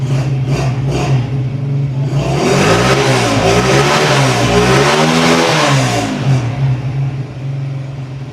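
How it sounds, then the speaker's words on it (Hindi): A 2025 Crown CR 100 motorcycle engine self-starts and rumbles close by, rising into a strong rev that swells and falls back toward a steady idle, with no talking. "इसे ज़रा स्टार्ट करके भी दिखाता हूँ आपको और साउंड भी चेक करवाता हूँ"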